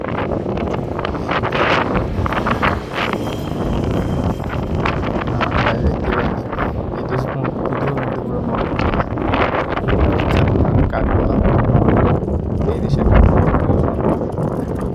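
Wind gusts hard across the microphone outdoors on a walk through a neighbourhood street, producing a loud, continuous rumbling buffet for the whole stretch, with occasional faint background sounds underneath.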